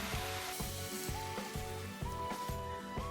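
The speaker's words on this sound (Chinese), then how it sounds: "然后倒入开水" Boiling water is poured into a pot of tofu seasoned with dark soy sauce, oyster sauce, sugar and salt, raising a fairly quiet sizzle that comes in a series of short, regular bursts.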